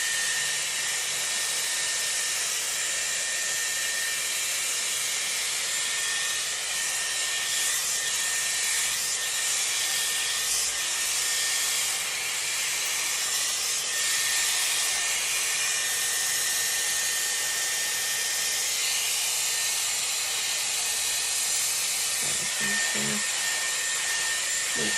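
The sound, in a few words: Dyson Airwrap round brush drying hair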